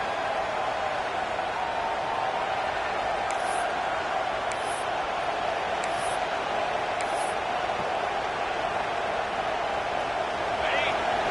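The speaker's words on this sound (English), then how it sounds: "this crowd is getting behind this defense" Stadium crowd at a college football video game, a steady loud roar of cheering during a big third down in the red zone, continuous throughout with no clear talk over it.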